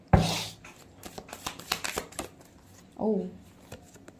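Tarot cards are shuffled and drawn up close: a quick riffle, then a run of soft flicking taps and slides of cards. A faint voice is heard briefly toward the end.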